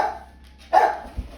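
A pair of dogs play-fighting gives one sharp bark-like yelp after a quiet moment, followed by a couple of soft low thumps, close and loud.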